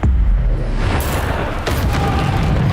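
Bombarda blasting spell exploding in Hogwarts Legacy, a loud, dense rumbling boom that fills the whole moment, with a sharper crackling burst partway through and a sustained roar continuing underneath, no speech.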